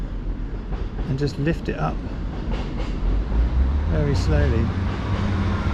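A passing train rumbles low and steady beside a fly-fishing spot on a nymphing day, growing slightly louder toward the end while someone talks over it.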